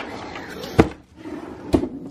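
A makeup drawer for eyebrow and kohl pencils is opened and pushed, giving two sharp, close wooden thuds about a second apart in a quiet room.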